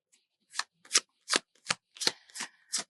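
Tarot cards are shuffled close up in a quiet room. About eight short riffling bursts come in an uneven rhythm, crisp and alone.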